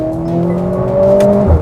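Mercedes AMG A45S hot hatch accelerating hard, a loud close engine note rising steadily in pitch through the revs, ending with a brief low thump as it shifts.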